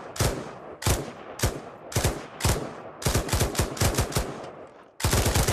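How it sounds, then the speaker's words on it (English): Machine gun fire in the VR shooter Pavlov Shack, heard as loud, close bursts of rapid shots with short pauses between them, ending in a longer sustained volley. "let me snipe you with this machine gun"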